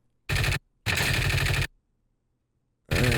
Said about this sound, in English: We shoot the enemy.